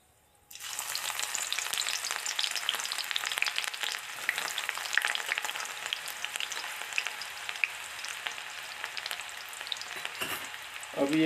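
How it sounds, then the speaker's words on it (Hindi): Chopped onions hit hot oil in a pan with a sudden burst of sizzling, then keep up a steady, bright crackling fry at close range, with no talking. "अब इसमें हम प्याज डालेंगे और उनको भूनेंगे"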